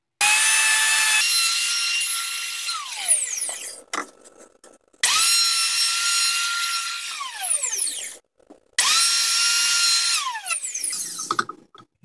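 A router cuts small hinge dados into the wooden panel of an inlaid laptop case, three loud, close passes of high whining cutting, each with a falling pitch as the bit winds down, separated by brief pauses.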